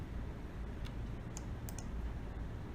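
Computer keyboard keys tapped to enter page numbers, a few faint, sparse clicks over a quiet room hum.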